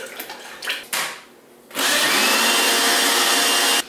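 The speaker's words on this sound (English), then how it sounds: "So I'm whipping out the blender because this is not working out." A blender whirs steadily at high speed, mixing coquito, close and loud for about two seconds after some brief rattling and handling noises.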